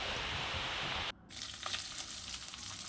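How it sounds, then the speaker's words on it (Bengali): Fish sizzles loudly in hot oil, a steady close hiss that cuts out for a moment, then returns with soft crackles and spits. "মাছ ভাজছি দেখো"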